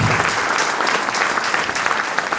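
An audience at a motivational talk during a tour claps together in a dense, steady burst of applause, loud and close, with no pauses.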